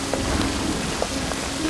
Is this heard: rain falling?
yes